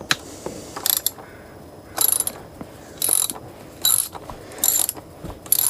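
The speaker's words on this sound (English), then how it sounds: "Take the bolts out." A ratchet wrench loosens the carburetor bolts on a Mercury 60 hp outboard engine, heard as five or six separate bursts of rapid, close clicking with short pauses between them.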